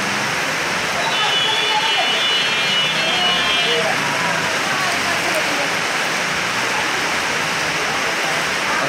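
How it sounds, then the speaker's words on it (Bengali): Heavy rain pours steadily at a railway station, a dense continuous hiss filling the whole stretch with a brief faint whistle-like tone early on. "প্রচুর বৃষ্টি পড়ছে, প্রচুর বৃষ্টি।"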